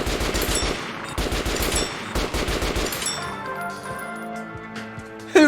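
RPK machine gun firing at training dummies in Metro Last Light Redux, rapid close bursts rattling for about three seconds, then ringing metallic clinks and a final sharp hit.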